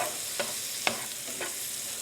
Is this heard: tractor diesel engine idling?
no